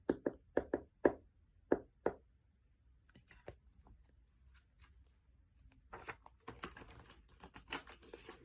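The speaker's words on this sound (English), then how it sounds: "it's also about clearing your cards and normally about tapping on them" Tarot cards are tapped to clear them, giving a quick run of sharp close knocks at the start, then fainter scattered taps and rustling handling of the deck.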